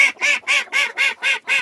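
A duck sheltering in a coop loft on a cold, rainy day gives seven loud quacks in a steady, evenly spaced run, close by with nothing else audible.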